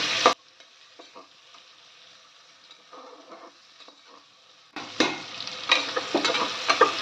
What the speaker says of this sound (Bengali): এবার গোল্ডেন হওয়া পেঁয়াজটার সঙ্গে ভালো করে ভেজে নেব।